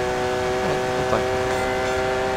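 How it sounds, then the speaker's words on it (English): A steady, ringing tone with layered harmonics sounds continuously in a racing video game, holding at an even level from start to end with no clear pauses between strikes. "Oh, listen to that ding, ding, ding."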